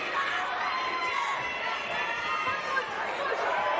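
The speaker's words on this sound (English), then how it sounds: "You can hear the crowd inside Commerce Casino coming alive for right hook Roxy." Boxing crowd inside Commerce Casino roaring and cheering during a women's bout, a steady dense wash of voices and shouts with no break, fairly loud throughout.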